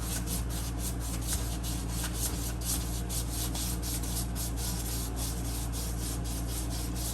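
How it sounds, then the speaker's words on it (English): Steady back-and-forth sanding of a leather knife sheath edge with 320-grit sandpaper, a close, continuous rhythmic rasping of evenly repeated strokes with no talk. "Now I'm at 320 and I'm going to sand all the little hairs off."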